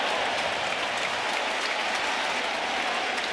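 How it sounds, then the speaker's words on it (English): Yankee Stadium fans roar and applaud continuously during a 2022 Angels–Yankees baseball game, a broad, loud wash of crowd noise with no break. "Just listen to the crowd."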